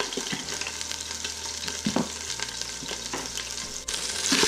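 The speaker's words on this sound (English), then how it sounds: "So I'm gonna start stirring this up so that it can saute all the way through." Deer meat for a vegetable soup sautés in a pot, giving a steady close sizzle and frying hiss while a spoon stirs and scrapes through it without pause.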